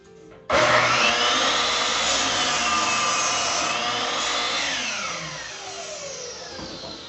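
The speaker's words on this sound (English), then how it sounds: "I'll have to cut this one shorter" A power saw cuts a wooden board for a chicken coop, a loud continuous high whine starting abruptly and holding steady for several seconds before slowly winding down.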